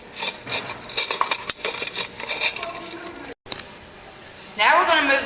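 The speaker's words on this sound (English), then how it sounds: "then you use the oil wrench" A metal oil filter wrench grips and turns a car's oil filter, giving scraping, rasping metal clicks in short bursts close up, with a voice speaking over them.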